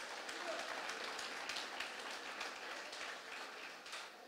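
A church congregation at a Brazilian worship service claps together, a soft, distant, continuous patter of many hands with voices faintly mixed in.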